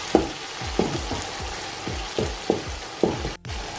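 Masala with turmeric and spices sizzling and frying in a pan for chicken biryani, a steady crackle with rhythmic scraping strokes of a spoon stirring every half second or so.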